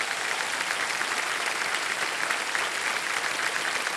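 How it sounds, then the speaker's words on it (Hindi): Studio audience on the game show Kaun Banega Crorepati applauds a contestant, a loud, steady, dense wash of many hands clapping at once, unbroken for the whole span. "ताली बज जाए इनके लिए।"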